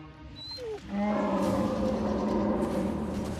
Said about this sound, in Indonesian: Ternyata itu suara beruang yang sedang memangsa buruannya.